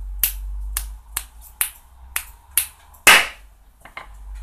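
Eight sharp finger snaps at uneven intervals, crisp and close, with one louder snap near the end, over a faint steady low hum and no voices.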